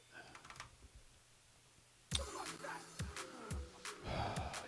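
Computer keyboard typing during a live hacking stream, a quiet stretch followed by bursts of clicky keystrokes at close range in irregular clusters.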